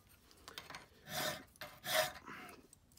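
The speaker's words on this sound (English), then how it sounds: "It's just plenty of hand filing" Hand file rasping across metal stock for an infill block plane, two or three strokes with pauses between, close and fairly quiet in a workshop, no talking.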